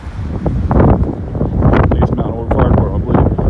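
Strong outdoor wind batters the microphone in loud, continuous rumbling gusts near a railway line, with a voice partly buried beneath the roar.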